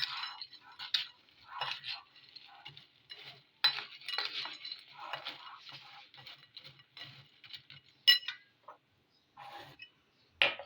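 Spoon stirring powdered sugar into homemade tutti frutti in a bowl, giving a steady run of light clinks and scrapes with brief louder taps, close and clear, with no voices.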